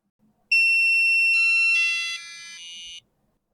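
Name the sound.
microcontroller buzzer beeping at dropping frequency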